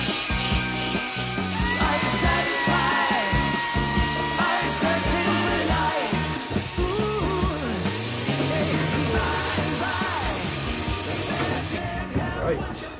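A belt file and a small Rivnut-style pistol grip tool work on race van fabrication, giving a continuous loud grinding rasp with shifting pitch that runs steadily throughout.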